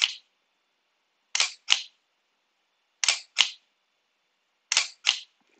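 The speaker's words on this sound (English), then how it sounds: "when you press the shutter button, that little thing there goes up and it goes down" Mechanical shutter of a DSLR camera set to a 1-second exposure, firing three times; each shot is a sharp close click, then a second click about a third of a second later, with silence between the shots.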